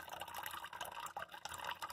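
Tap water runs steadily in a continuous splashing stream with dripping, alone and fairly faint, as a cat plays in the flow.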